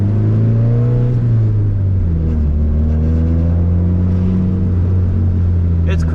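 A Full Throttle race-prepped car's engine rumbles and revs loudly and steadily up close, with a low droning tone that shifts pitch, and a voice talking over it.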